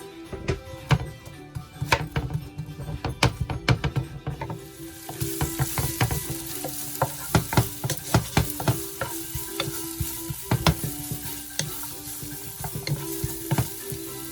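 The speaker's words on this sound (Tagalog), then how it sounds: "I will cook first the white onions." White onions frying in a pan, a steady sizzle with repeated sharp scraping and clacking of a utensil stirring against the pan, close and clear, the sizzle growing brighter partway through.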